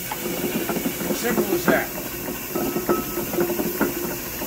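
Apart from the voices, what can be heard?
Reid steam windlass engine running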